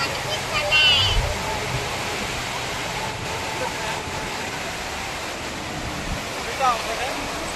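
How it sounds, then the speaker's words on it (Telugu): The waterfall at Dindi Dam roars steadily, a broad, constant rush of falling water that fills the whole scene without letting up. "ఇక్కడ నుంచి అక్కడ దాకా వాటర్ ఫాల్స్ అయితే మంచిగా అనిపిస్తుంది"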